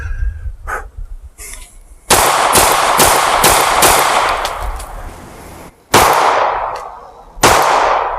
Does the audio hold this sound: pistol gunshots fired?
yes